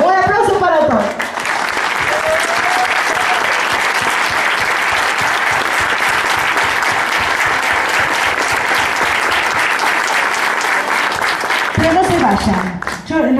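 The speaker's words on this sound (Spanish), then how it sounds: "¡Un aplauso para todos!" A concert audience breaks into loud, sustained applause after a singer's closing greeting, thick even clapping lasting over ten seconds, with brief voices at the start and end.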